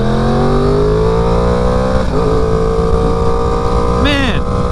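A loud Yamaha R1 superbike engine drones steadily with rising pitch, then revs sharply near the end, with a voice briefly audible underneath.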